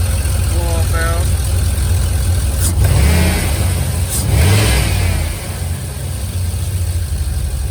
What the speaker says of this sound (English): Sounds awesome when you make boost and let off because it blows it off and it sounds cool.